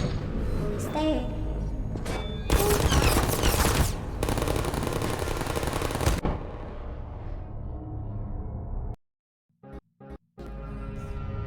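Turrets fire bursts of rapid machine-gun shots in the game Portal with RTX, dense and loud for several seconds, then drop into brief silence broken by short mechanical clicks, with a voice talking in places.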